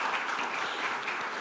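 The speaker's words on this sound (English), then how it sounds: "give them a round of applause" A conference audience applauds, a brief burst of dense, steady clapping from a crowd, moderately loud and with no one talking over it.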